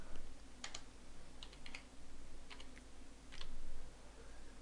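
Quick bursts of typing and clicking on a computer keyboard, a few short clusters of keystrokes spread over a faint steady background hiss.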